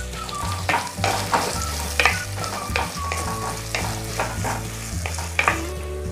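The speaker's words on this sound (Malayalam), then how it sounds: "നല്ലോണം ഒന്ന് വഴറ്റി മൂപ്പിച്ചെടുക്കാം നമ്മുടെ സവാള" Onions sauté in a pan, a continuous sizzle broken by repeated scraping stirs of a spoon, close and fairly loud, with a low steady hum underneath.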